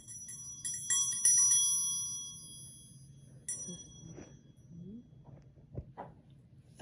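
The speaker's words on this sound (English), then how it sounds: "let me ring the bell" A small bell rung several times in quick bright dings at the start, ringing out and fading, followed by quieter handling knocks and rustles.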